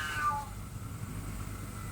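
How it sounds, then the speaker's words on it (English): A cat gives one short meow at the very start, faint and in the background of a quiet room, followed by low ambient hum. "What is wrong with that cat?"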